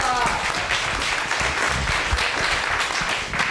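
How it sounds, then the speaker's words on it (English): A room of audience members gives a round of applause at a humanities talk, steady mid-level clapping that runs from start to finish without letting up. "Let's give him a round of applause."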